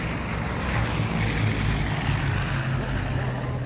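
An airplane flying over in the Open Country video game, a steady droning engine hum holding constant throughout, with a person chatting over it.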